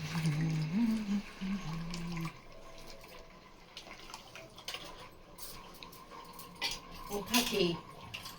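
Tamarind being mixed by hand in a bowl of water for a fish curry, with soft clinks of utensils and dishes and light watery sloshing, while a voice hums or murmurs briefly at the start.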